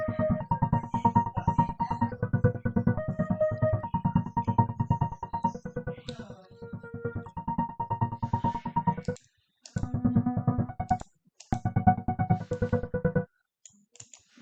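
Synth arpeggio in FL Studio run through an effects rack for added texture, rapid repeating notes over a low bass that break into choppy stops and restarts near the end, with no talking.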